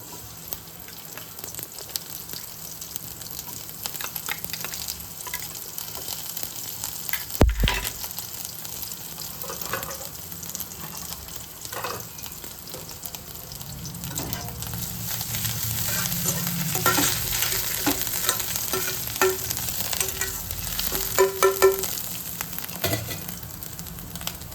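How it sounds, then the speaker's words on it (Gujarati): Cumin, garlic, ginger and chili paste fry steadily in a pan, giving a continuous close sizzle with stirring and occasional scrapes, a sharp knock and a louder rush of frying toward the end. "જીરું નાખી લસણ, આદુ અને મરચીની પેસ્ટ થોડીક નાખી દઈશું."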